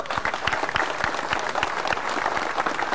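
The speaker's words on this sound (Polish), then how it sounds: "Ogromne brawa dla pana Tomasza," An audience applauds Tomasz Wójtowicz at a 2003 Walk of Stars ceremony, with dense, sustained clapping and a few sharper individual claps standing out nearby.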